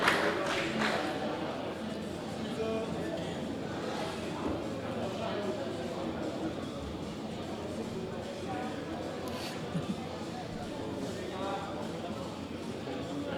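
Spectators at the 2018 European Equipped Powerlifting Championships cheering on a junior woman lifter mid-attempt, a dense continuous shouting roar with a few sharper yells, an announcer talking over it.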